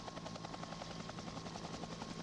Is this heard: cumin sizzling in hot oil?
no